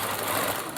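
A sewing machine runs steadily and evenly while stitching a blouse neckline, loud and close with no break across the short span.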